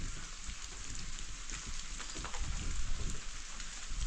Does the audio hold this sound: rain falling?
yes